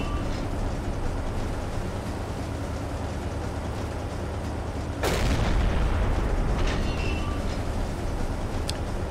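A single loud boom from a U-boat deck gun firing in Silent Hunter 3 breaks over a steady background rumble of sea and engine, followed by a fading echo.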